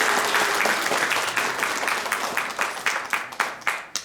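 Audience clapping at a Democratic Party New Year unity gathering in Jecheon-Danyang, a thick burst of applause that thins out and tapers into scattered separate claps toward the end.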